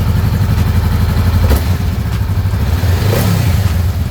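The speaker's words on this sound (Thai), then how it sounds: "เดี๋ยวผมจะลองเบิ้ลให้เพื่อนๆฟังนะครับ เสียงเจ้าคันนี้" A 2018 Honda Rebel 500 two-cylinder engine with stock exhaust runs close by and is blipped a couple of times, short throttle bursts rising above a steady rumbling idle.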